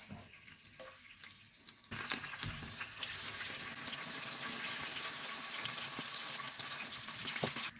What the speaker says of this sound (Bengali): তেল দিয়ে দিলাম হাফ কাপের মতন, দিয়ে দিলাম দারচিনি, তেজপাতা, এলাচ